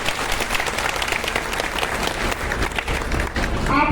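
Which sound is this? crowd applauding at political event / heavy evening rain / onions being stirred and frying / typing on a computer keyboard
crowd applauding at political event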